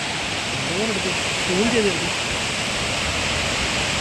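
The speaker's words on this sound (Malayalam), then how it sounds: "ഇതാണ് നമ്മൾ പഴയ കണ്ട നമ്മൾ കണ്ട ആ വെള്ളച്ചാട്ടം ഇല്ലേ അതാണ് ഈ കാണുന്നത്" A waterfall at Pazhayarikandam in Idukki, flowing into the Periyar, makes a loud, steady roar of falling water, with a couple of brief higher tones showing over the constant wash.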